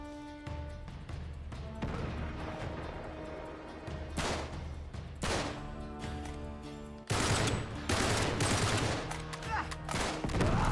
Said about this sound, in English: Snipers! In a town!